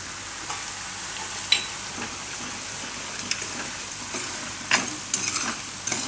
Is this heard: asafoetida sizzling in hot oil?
yes